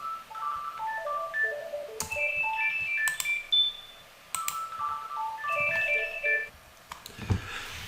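A phone ringtone playing a bright electronic melody of stepped beeping tones, repeating its tune twice at a steady level with no talk.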